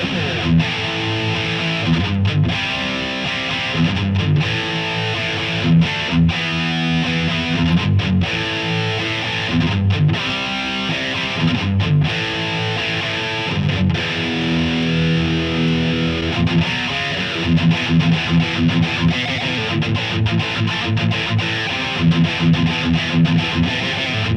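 Heavy distorted electric guitar plays chugging riffs in a classic metal style with a reverb tail, loud and continuous, with no voices.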